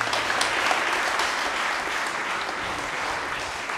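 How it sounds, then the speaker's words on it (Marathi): A church congregation applauds at a Confirmation Mass, steady dense clapping from many hands filling the space at an even level throughout, with no voices above it. "टाळ्या वाजवून आपण त्यांचं"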